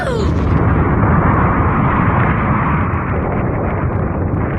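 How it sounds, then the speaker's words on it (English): A sustained, loud roar of explosions and rumbling blasts fills the whole stretch, dense and continuous with no pauses. "I love the sound of explosions."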